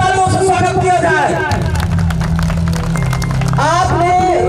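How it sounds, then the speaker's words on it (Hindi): A crowd at a school function claps loudly to welcome a senior guest who is a political figure. The applause is dense and steady, mixed with crowd hubbub, amplified voices and sustained tones. "तो एक बार बच्चा जोरदार तालियों से स्वागत किया जाए।"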